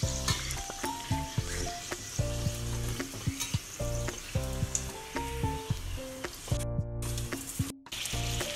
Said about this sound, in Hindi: ऑयल अच्छी तरीके से गर्म हो चुका है, अब मैं इसमें नान डाल रही हूँ।